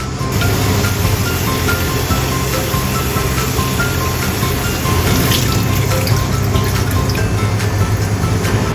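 Tap water runs steadily and loudly into a sink while radish is washed, a continuous splashing rush with faint handling sounds throughout.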